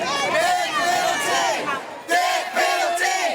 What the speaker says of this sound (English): The grandparents of Olivia Jansen joined a crowd outside the Wyandotte County Courthouse calling for justice.